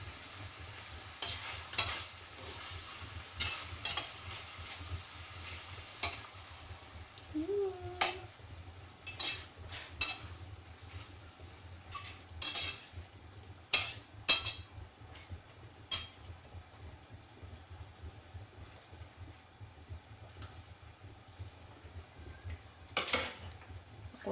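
Pork belly is stirred with coconut milk in a pot for Bicol Express. A low simmering bubble sits under repeated sharp clinks and scrapes of a utensil against the pot, some louder, with a brief voice.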